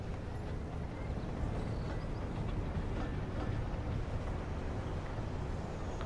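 A train rolls along rails in the PS4 city-building game Cities Skylines with snowfall, a steady low rumble and clatter that holds at an even level throughout with no voices.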